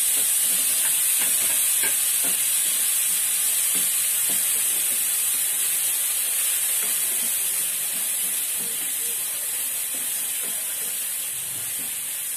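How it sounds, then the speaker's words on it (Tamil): Chopped big onions sautéing in a pan for a Tamil crab curry, a steady close sizzle and hiss with soft scrapes of a spoon stirring through, no voices. "இதையும் நல்லா வதக்கிக்கோங்க, பச்சை வாசனை போற அளவுக்கு."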